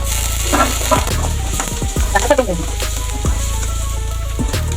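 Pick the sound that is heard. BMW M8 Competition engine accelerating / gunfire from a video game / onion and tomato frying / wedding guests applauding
onion and tomato frying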